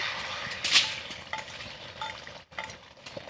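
Egg hitting very hot oil in a heated pan, starting with a sharp crackle and clink and followed by steady sizzling hiss with brief stirring scrapes, all close by and with no voices.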